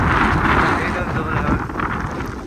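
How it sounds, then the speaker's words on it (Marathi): Strong gusting wind buffets the microphone on a cloud-covered hilltop at Tikleshwar temple, a loud, continuous rumbling roar with no break across the short stretch. "वारा बघितलात ना"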